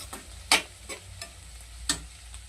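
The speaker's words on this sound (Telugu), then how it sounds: "ఇంకా బ్రౌన్ వచ్చే వరకు ఇలాగా కలుపుతూనే ఉండాలి." Sliced bitter gourd with turmeric is stirred as it fries in a pan, a spatula scraping in a few sharp strokes over a faint, quiet sizzle.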